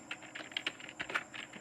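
Rapid keystrokes on a computer keyboard while entering text in MS Word, a quick irregular patter of light clicks, close and fairly quiet, with no talking.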